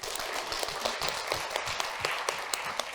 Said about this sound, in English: So could we do one more round of applause